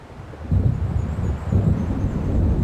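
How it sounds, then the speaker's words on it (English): Deep rumbling thunder from an approaching storm in the video game Alan Wake Remastered, rolling continuously and swelling in loudness partway through, with low wind-like noise underneath and no voices. "It seems there's a storm coming."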